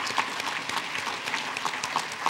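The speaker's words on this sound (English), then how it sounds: "Another round of applause." Applause from an audience at a college of osteopathic medicine honors and awards ceremony, a steady wash of clapping that holds at an even level for a couple of seconds.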